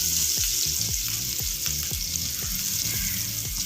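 Homemade butter sizzling and frying in a pan for chicken tikka masala, a steady close hiss with repeated stirring or scraping strokes at a regular rhythm, no voices.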